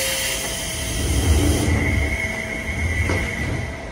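Seibu Tamagawa Line train pulling into a station, a continuous rumble of the railcar with steady hum and faint squealing tones, heard from inside at moderate level.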